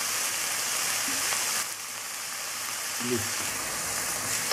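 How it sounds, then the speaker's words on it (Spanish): Onion frying in hot oil in a pan while being stirred constantly, a steady close sizzle throughout with a brief voice under it near the end. "nuestra cebolla en aceite caliente hasta caramelizarla"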